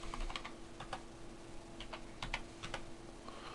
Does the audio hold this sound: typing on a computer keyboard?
yes